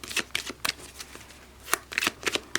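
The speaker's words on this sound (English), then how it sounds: "These are the Enchanted Map Oracle cards that I'm using by Colette Baron Reed" Enchanted Map Oracle cards are shuffled by hand up close, a quick series of crisp riffling bursts with short pauses between them, with no voices.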